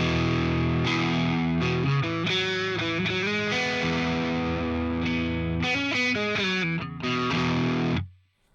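An electric guitar pushed into an over-the-top crunchy distortion plays a busy riff of choppy, sustained chords for about eight seconds, loud with no voices, ending in a quick fade.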